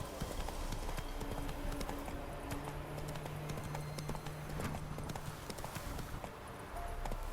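The horse Roach gallops in The Witcher 3, its hooves clip-clopping in a fast, steady rhythm under a continuous outdoor wash, with a brief tonal hum in the middle.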